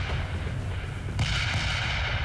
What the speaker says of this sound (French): Les canons, qui sont en mesure de faire feu, atteignent leur cible